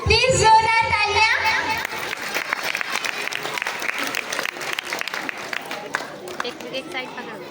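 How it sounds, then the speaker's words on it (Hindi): Audience applause at a school annual day celebration. A loud voice opens the moment, then a crowd breaks into steady, sustained clapping mixed with children's chatter. "प्लीज जोरदार तालियां।"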